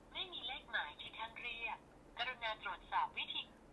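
A smartwatch, the H14Ultra+ 49 mm, places an outgoing phone call, playing a repeated electronic ringback or call tone in short patterned bursts, faint and close, with a brief gap between two sequences.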